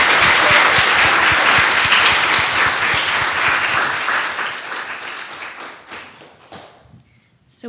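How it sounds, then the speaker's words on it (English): A seated audience gives a closing round of applause for panelists at a global health event, loud dense clapping that gradually thins and fades toward the end. "let's give our panelists one more round of applause."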